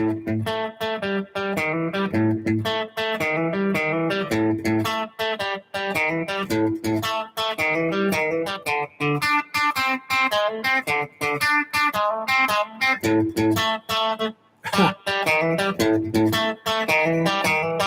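An electric guitar plays a bouncy 12-bar blues riff with steady repeating bar patterns, continuous and close, with a brief pause near the end.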